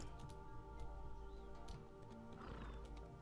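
A horse in the video game Apotheon neighs and whinnies loudly over steady clip-clopping hooves, set against a constant layer of game ambience and music.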